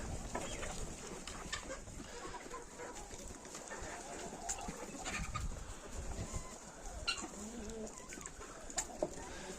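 Mixed-breed hens, including Marans, Leghorns and Minorcas, cluck and murmur together in a farmyard at dawn, a soft continuous flock chatter with a few sharper calls, while a person talks.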